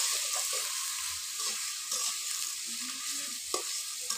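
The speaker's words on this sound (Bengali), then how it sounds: "কড়াইতে প্রথমে পেঁয়াজ কুচি আর রসুন ছেঁচলিয়ে দিয়ে দিছি" Chopped onion and crushed garlic fry in a wok with a dense, even sizzle close by, and light stirring scrapes and a few clinks are scattered through.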